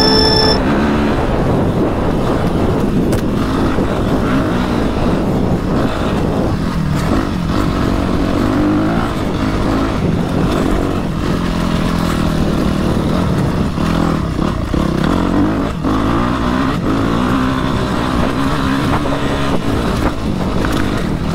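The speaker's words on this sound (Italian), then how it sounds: "La moto va più che bene" A motorcycle engine labours steadily and loudly up a rocky mountain trail, with continuous revving and clattering from stones over nearly twenty seconds, heard close with no talk.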